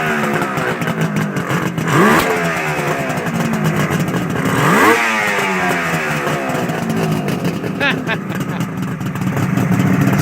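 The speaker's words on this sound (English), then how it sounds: "Give it a rev, man." A 1972 Suzuki GT750 motorcycle, the water-cooled triple called the Water Buffalo, at its first start-up, with the engine rising and falling through several revs over a steady running tone, while people talk nearby.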